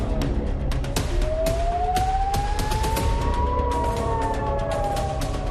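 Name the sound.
sirens wailing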